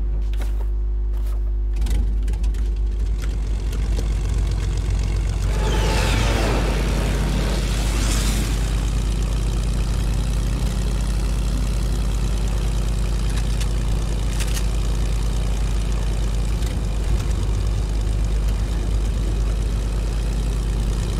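Airplane in Fortnite, a loud steady propeller engine drone that runs throughout with a swell partway through, with no talk.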